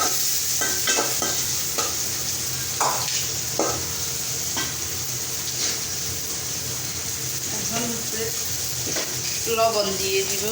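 Onions and green chilies sizzle in a hot pan while a utensil stirs and scrapes them, a steady frying hiss broken by repeated clinks and scrapes.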